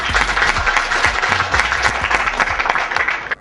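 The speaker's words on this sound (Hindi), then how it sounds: "जोरदार तालियां" A studio audience at the Hunarbaaz talent show applauds loudly and steadily, dense clapping filling the whole stretch with a few sharper claps standing out before it cuts off abruptly.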